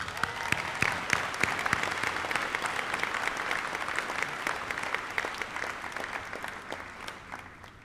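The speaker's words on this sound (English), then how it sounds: "And here, with this round of applause," A large audience at a 2013 high school graduation ceremony claps in sustained, dense applause that swells early and slowly fades over several seconds.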